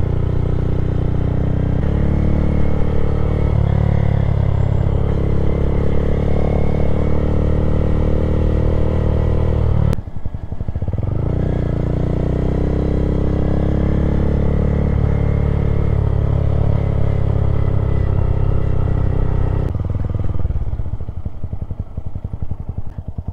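Honda Grom motorcycle engine while riding, a loud, continuous buzzing drone heard up close, rising and falling in pitch as the throttle changes, with brief gaps at gear shifts and steady wind noise underneath.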